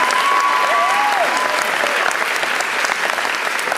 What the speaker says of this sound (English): So give her one more round of applause.